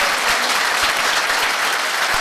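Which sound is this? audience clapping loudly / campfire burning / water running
audience clapping loudly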